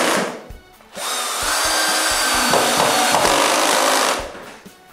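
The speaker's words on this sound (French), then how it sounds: "Il ne me reste plus qu'à couper à bonne longueur." A power saw cuts wooden molding to length in a woodworking shop, a loud, sustained whining buzz lasting about three seconds with spin-up and wind-down at either end and a few knocks of handling before it.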